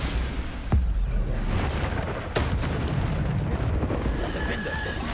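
Bombarda spell explosions in Hogwarts Legacy hit as booming blasts, a couple of sharp bursts over a dense, rumbling battle backdrop, loud and near.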